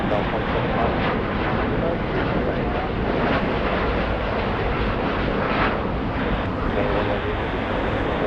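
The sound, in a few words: airplane at Los Angeles airport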